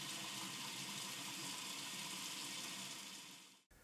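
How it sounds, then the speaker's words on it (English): Warm tap water runs steadily over a small resin model truck cab being rinsed with dish soap in a sink, a close, even broadband rush that fades out near the end. "I'll use some dish soap and rinse it in some warm water."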